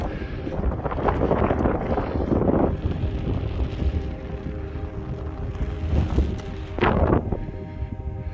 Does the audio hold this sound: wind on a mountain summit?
yes